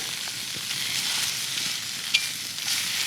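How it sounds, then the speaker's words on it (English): Bacon sizzles steadily in a hot cast iron pan over a campfire, a dense continuous frying hiss with a small pop near the middle, close and alone without talk. "we'll go ahead and just add the bacon into my hot pan."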